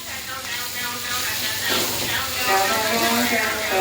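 Masala being sautéed in a pan, a continuous close hiss and sizzle that swells gently over a few seconds, with faint scraping beneath.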